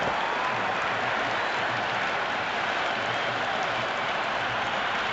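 Stadium crowd noise from the Cricket 26 video game during an IPL match between RR and MI, a steady loud roar of cheering and applause filling the whole stretch without letup.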